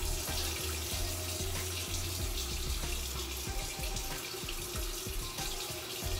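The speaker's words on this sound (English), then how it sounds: "So now I'm just going to wash my hair." Water runs steadily from a tap while hair is being washed, a constant hissing splash with small irregular spatters and no talking.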